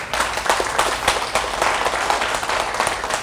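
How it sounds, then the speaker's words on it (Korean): At a book concert, an audience applauds enthusiastically, a lively, dense burst of many hands clapping together, with little talk over it. "이해하시는 분은 격하게 박수 한번 쳐주십시오."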